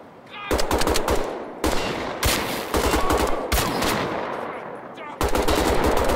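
Loud, sustained automatic gunfire from the video game Wolfenstein: The Old Blood, long rattling bursts broken by brief gaps, dense and close with no audible talk.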